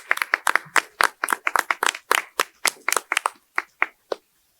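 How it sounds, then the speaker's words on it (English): Modest audience applause at a qualitative research workshop: a handful of people clapping close by in an irregular patter that thins out over about four seconds, with no talking. "invite you for a round of applause for your excellent work and commitment for our qualitative research workshop"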